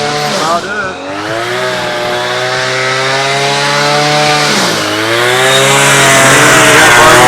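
A Southland wheeled string trimmer's small petrol motor running while struggling for power, a loud buzzing whine that dips and revs back up, near and continuous.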